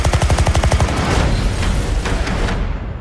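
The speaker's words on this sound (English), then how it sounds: "They've opened fire on journalists." Gunfire in a trailer for the war film A Private War (2018): a rapid burst of loud automatic shots opens, then gives way to a rumbling, echoing roar that slowly fades.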